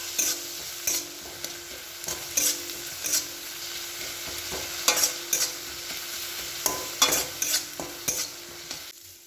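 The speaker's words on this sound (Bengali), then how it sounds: "এই যে পেঁয়াজটা আমার ভাজা ভাজা হয়েই গেছে" Onions frying in a pan and being stirred, with repeated scraping stir strokes in an irregular rhythm over a soft steady sizzle, close and moderately loud, no talking.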